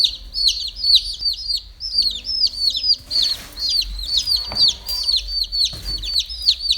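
A chicken gives a rapid run of sharp, close clucks and squawks, repeating steadily throughout, with some rustling and handling noise in the middle.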